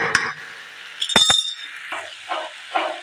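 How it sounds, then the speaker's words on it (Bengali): A small lid set onto a village cooking pot of potato and eggplant curry, giving a couple of bright clinks and a metallic rattle, followed by a few softer clatters. "একটা ছোট ঢাকা আমি দিয়ে দিচ্ছি।"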